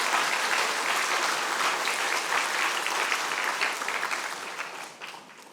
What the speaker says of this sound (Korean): 여러분 환영의 박수 보내주시기 바랍니다